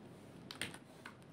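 A computer keyboard typed on in a short, quiet burst of a few soft key clicks, close and isolated against a low background.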